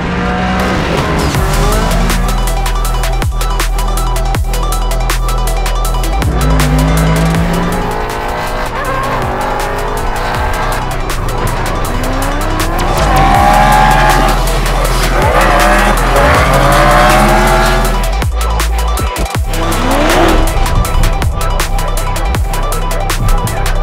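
Supercharged V8 BMW M3 E92 with a G-Power conversion, driven hard: a loud engine rises and falls repeatedly through gear changes while the tyres squeal and skid in long wavering bursts.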